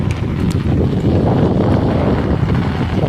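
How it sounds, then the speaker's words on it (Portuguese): Forceful wind in a rainstorm in the Brazilian sertão, battering the microphone with a heavy, steady rumble and a few brief knocks near the start. "O vento é forte, viu?"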